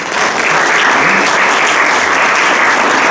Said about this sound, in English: let's give a round of applause to Mrs. Eastgate and Mrs. Eckhoff